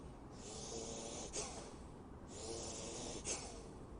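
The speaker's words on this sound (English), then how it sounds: "Second breathing is very important. This is called Kapala Bhati in yoga." Kapalbhati yoga breathing: a steady, breathy airflow with two forceful nasal exhalations about two seconds apart, close and fairly quiet, with no talking.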